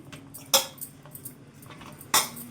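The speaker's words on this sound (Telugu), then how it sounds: "ఇప్పుడైతే మూత పెట్టేసుకుందాం" A lid is set onto a metal cooking pot holding soft dough for a star-shaped sweet, giving two sharp, close metallic clanks about a second and a half apart, with faint kitchen rustle between.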